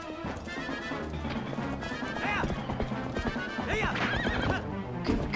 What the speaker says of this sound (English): Wow, nice horseback riding here, Red